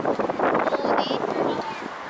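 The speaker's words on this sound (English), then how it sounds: "Today is super windy, so our hair." Wind buffets the microphone in a steady roar, with a voice speaking faintly underneath, outdoors in Charlton, Greenwich.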